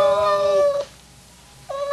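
A cat meows loudly in an animated short, one long drawn-out wailing meow followed by a short pause and the start of another, close and clear with no talking.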